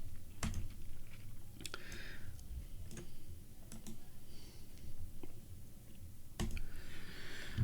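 Keys clacking on a computer keyboard during setup of Samba file sharing, with irregular bursts of close, crisp clicks, a few louder strokes, and a steady low hum underneath.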